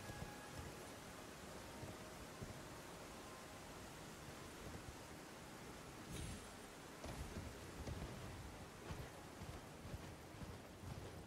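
Steady rain in the video game Elden Ring, a constant broadband hiss with faint rumbles, heard alone at low level throughout.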